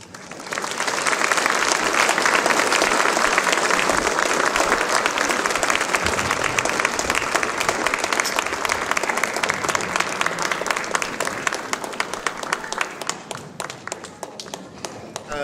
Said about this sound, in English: Another round of applause for Joel.